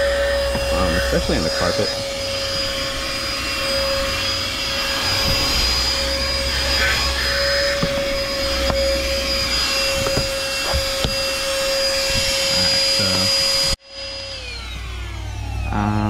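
A Chemical Guys corded handheld DetailVac vacuum cleaner whines steadily at close range while a voice talks over it. The motor cuts out abruptly near the end and spins down.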